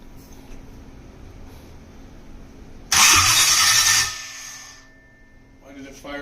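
A carbureted LS V8 on a test-run stand, with its ignition timing badly off, cranks and fires in a sudden loud burst, runs roughly for about a second, then dies away. The surrounding garage is quiet before and after.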